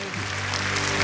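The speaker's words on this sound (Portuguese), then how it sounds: "Uma salva de palmas pro nosso sorriso." Audience applause at a talk by Dr. Márcio Bontempo, a steady dense wash of clapping throughout the short burst, fairly close and even in level with no speech over it.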